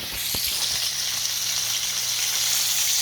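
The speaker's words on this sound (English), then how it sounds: "And I'm frying some chicken." Chicken fries in hot oil, a loud, steady close-up sizzle with a broad hiss throughout and a faint knock near the start.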